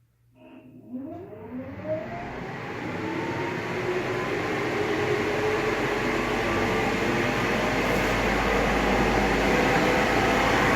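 A grow room ventilation fan spins up through 10-inch to 6-inch reducing ducting, its whine climbing in pitch over a couple of seconds before settling into a loud, steady rushing roar of moving air.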